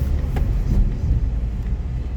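A Mazda CX-60 with a 3.3 litre turbo diesel pulls away, giving a steady low engine rumble and road noise heard from inside the cabin, fairly loud and continuous with no talk.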